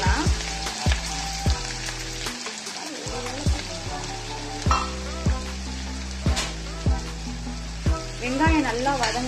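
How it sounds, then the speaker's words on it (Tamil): Mustard seeds, urad dal and onion fry in hot oil in a pan with a steady crackling sizzle. Small pops and spatters keep breaking through, and stirring scrapes sound now and then. "கடுகு உளுந்தம் பருப்பு சேர்த்துக்கலாம்"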